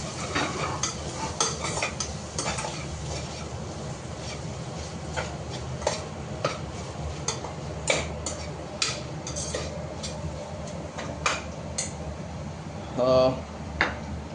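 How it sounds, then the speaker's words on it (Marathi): Prawn pulao mixture being sautéed and stirred in a pan, with steady low frying sizzle, repeated spatula scrapes and clinks, and a brief louder scrape near the end; no talk over it. "थोडंसं परतून घेऊया आता."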